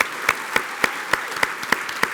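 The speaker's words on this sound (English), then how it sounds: "Can we have a round of applause for Mr." A live audience at an Isle of Man TT event applauds: a soft wash of crowd clapping with a few louder claps standing out in an even rhythm, brief and fairly close.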